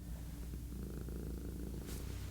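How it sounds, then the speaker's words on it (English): A cat purrs close up, a steady low rumbling that pulses continuously throughout, soft and intimate. "Can you hear her purring?"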